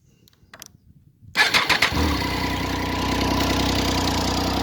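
A 2012 Triumph Street Triple 675 R motorcycle is cranked, with a few faint clicks before the engine suddenly catches and revs, then settles into a loud, steady, rumbling idle close by.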